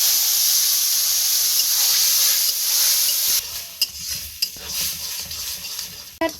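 Mango pieces for a pickle hit hot oil with five whole spices in a pan: a loud, steady sizzle hisses at first, then settles into a quieter crackle with scattered stirring clicks.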